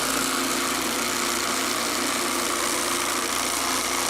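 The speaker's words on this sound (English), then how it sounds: "Listen to how loud the ice chamber is." A loud, constant grinding whir of an electric ice crusher, steady and harsh throughout, with no pauses or talking.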